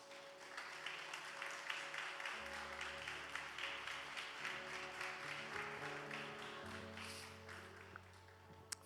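A church congregation stands and applauds, rhythmic clapping heard faintly and somewhat distant over sustained keyboard-like musical tones in the background.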